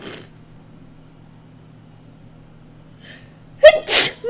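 A quiet room hum, then a sharp inhale and one loud, explosive sneeze up close.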